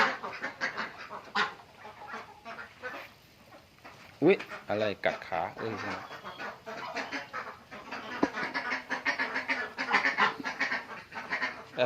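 Ducks quack in a few loud, close bursts around a man collecting duck eggs in a rural Thai farmyard, with other fowl calling and his voice talking throughout.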